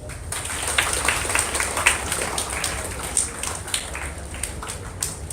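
Audience members clap their hands on command during a Simon Says game at a developer bootcamp, a dense patter of many hands kept up steadily for several seconds at moderate room distance.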